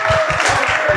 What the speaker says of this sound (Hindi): एक बार कॉफी के लिए जोरदार तालियां.